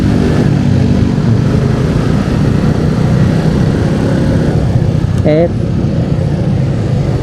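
Suzuki Shogun 125 SP motorcycle ridden along a busy road, a steady engine drone with road and wind noise throughout and a brief horn-like tone near the end, as a rider talks over it.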